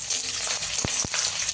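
Chopped onion and garlic frying in hot oil with nigella seeds and green chillies, a loud continuous close sizzle with a couple of brief sharp pops or scrapes partway through, no talk.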